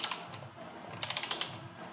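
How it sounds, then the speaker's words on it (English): Torque wrench clicking at a wheel hub during front-end disassembly, a quick run of sharp ratcheting clicks, close and fairly faint, with no talk. "I just don't feel good hearing that click using my torque wrench as a breaker"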